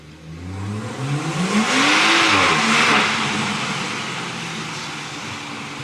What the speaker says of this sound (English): I can't help but give it a little tickle down here so you can hear the engine.